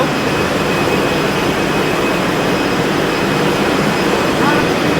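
Loud, steady roar of the engine of a large ten-wheel launch ferry running close by in its engine room, a constant heavy drone with a thin high whine.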